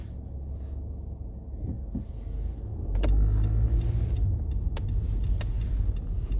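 Car interior during a drive through the Kensington section of Philadelphia, with a low engine and road rumble that swells as the car pulls away, plus a few faint clicks and no talking.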